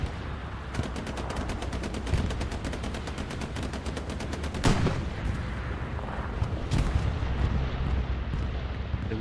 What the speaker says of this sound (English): We do have a bombing run here for Legion.